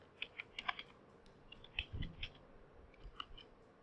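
Keystrokes on a computer keyboard as a PAN card number is entered into an income tax portal, a quick irregular run of close, light clicks with short pauses between bursts.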